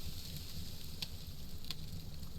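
Soft, steady sizzling of meat cooking in the video game SCUM, a low crackling hiss with a couple of brief sharper pops, fairly quiet.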